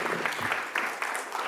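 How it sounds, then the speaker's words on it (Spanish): Brief, dense audience applause for a panelist at a news panel, a steady wash of many hands clapping. "un aplauso para él también, por supuesto."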